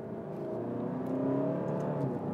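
A 2021 Alfa Romeo Giulia Q4 Veloce 2.2 diesel engine revs up smoothly to about 4,000 rpm as it downshifts, its rising whine steady and fairly quiet, heard from inside the car.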